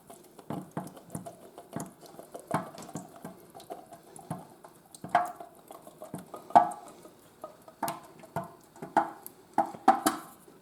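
Cooked beans are strained, with wet spattering, trickling liquid and light clinks of a pan or strainer coming in irregular bursts, fairly quiet and close.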